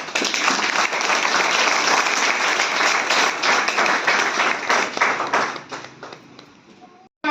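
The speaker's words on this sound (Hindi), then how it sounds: "एक बार जोरदार तालियां हो जाओ।" A crowd at a network marketing seminar gives loud, dense applause that holds strong for several seconds, then thins and fades out near the end.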